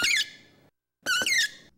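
Two bright, high-pitched cartoon squeak effects, each short and wavering, separated by a brief silence.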